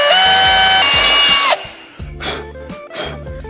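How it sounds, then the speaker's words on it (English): A small power drill with a small bit whirs at high speed for a second and a half, then spins in short bursts with pauses between, drilling holes in a C8 Corvette part. "I'm going to gently drill a couple of holes in this."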